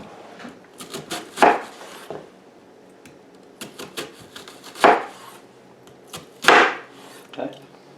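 Knife chopping potatoes into big slices or dice on a cutting board, a few sharp separated chops with quieter scraping and handling sounds between them, close and fairly soft.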